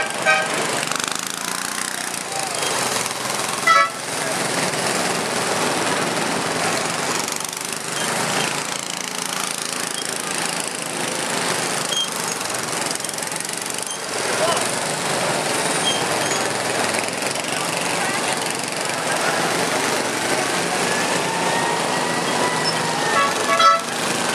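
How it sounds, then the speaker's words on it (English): Mini monster trucks driving in a Fourth of July patriotic parade in Weare, a continuous noisy rumble of engines with crowd and street noise, a few horn toots and brief louder bursts throughout. "the mini monster trucks that are driving here"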